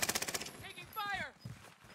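Enemy gunfire in an online shooter video game comes as a quick, sharp automatic burst at the start, followed by fainter scattered effects and a brief voice-like sound.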